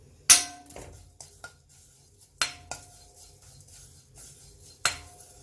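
Oats and nuts dry-roasting in a pan for a beetroot health mix: a few sparse, sharp metallic clinks of a spatula against the pan, spaced a second or two apart over a quiet background.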